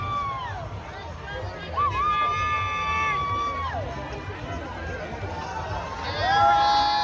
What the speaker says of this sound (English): You can scream at the finish line.